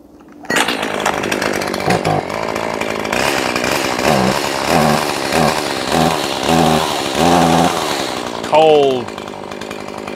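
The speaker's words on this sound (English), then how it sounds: "I've got four saws here that I'm going to do test cuts with." Race-chain chainsaw making a test cut in cool weather, roaring loud and steady for about eight seconds with revving surges, then a sharp rev drop and winding down near the end.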